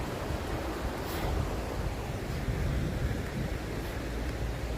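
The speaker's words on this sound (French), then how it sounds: "Voilà encore de l'eau, une rivière comme on dit." A river flows through a hilly French town, giving a steady, broadband rush of water and wind, fairly loud and unbroken, with no voices.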